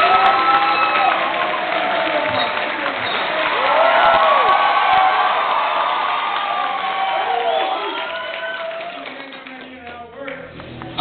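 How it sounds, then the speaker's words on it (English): Audience at a costume contest giving medium applause to test an applause meter, a steady wash of clapping and cheering with scattered whoops that tapers off at the end. "Can I hear medium applause?"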